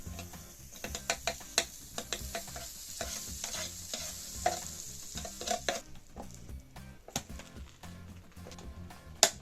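Butter sizzles in a preheated sandwich maker with a light frying hiss, mixed with irregular close clicks and scrapes from the appliance.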